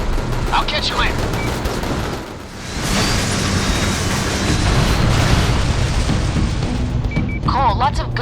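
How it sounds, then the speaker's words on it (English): Gunfire erupts in the InFamous video game: dense bursts of shots and heavy booms roll on continuously. Brief voices come through at the start and end. "Trash baggers are shooting up the place."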